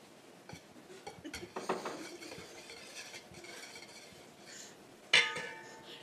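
A spoon clinks and scrapes against a container while homemade lemonade mixed with pepper, salt and other odd ingredients is stirred, a series of light irregular clinks capped by one sharper clang near the end.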